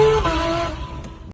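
Corvette C8 Z06 with its LT6 5.5-liter flat-plane crank V8 gives a brief, loud engine note that drops in pitch as it winds down, then cuts off abruptly.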